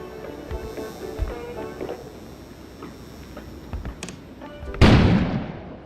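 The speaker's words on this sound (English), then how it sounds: "An explosion suddenly occurred outside." A sudden loud explosion bursts outside in the video game Kona, a sharp close blast that swells and rumbles away over a low ambient background with scattered faint knocks.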